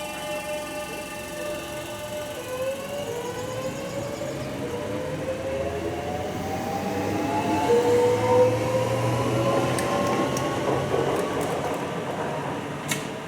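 Traction motor whine from a UK train pulling away, its tones stepping and sliding upward as the inverter carrier frequency changes during acceleration, with several sweeping pitches over a steady low rumble that grows louder midway.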